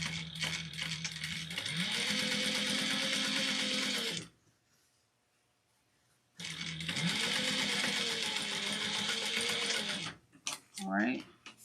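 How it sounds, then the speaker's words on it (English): A sewing machine stitches a quarter-inch seam along raw fabric edges, running in two loud sustained bursts separated by a pause, with brief handling clatter at the end. "I'm going to sew 1/4 of an inch raw sides together."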